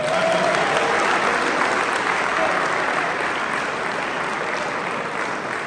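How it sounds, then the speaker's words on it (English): An audience at a Martin Luther King Day presentation at Capital University applauds itself: a dense, sustained wash of many hands clapping, loud and steady throughout, easing only slightly toward the end. "Now clap it up for yourselves, everybody."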